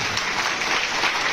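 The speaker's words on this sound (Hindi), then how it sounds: "और एक बार रेखा गुप्ता जी के लिए भी जोरदार ताली बजा दीजिए आप" A crowd at a traders' conference on the union budget gives loud, sustained applause for Rekha Gupta, a thick, even roar of many hands clapping with no talk.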